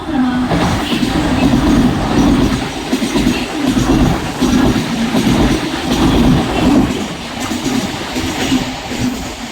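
Mumbai local train rolling through a railway station platform with a loud, close rumble and rhythmic clickety-clack of wheels, steady throughout with pulsing rises.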